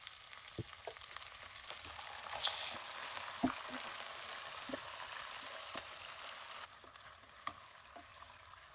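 Chicken sautéing in oil with onion and garlic, a quiet steady sizzle with scattered crackles, pops and occasional utensil taps as it is stirred.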